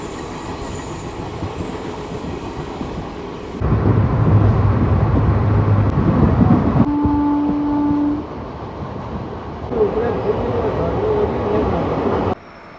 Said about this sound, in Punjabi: ਤੁਰ ਪਈ ਆ ਭਾਈ ਰੇਲ ਗੱਡੀ